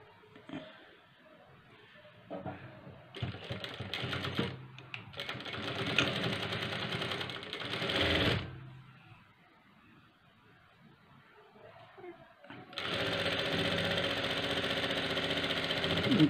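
A sewing machine stitches a blouse in a two-colour front-and-back piece, with several runs of rapid mechanical whirring separated by quieter pauses. A short run comes first, then a long loud one, then a steady run at the end, all heard close.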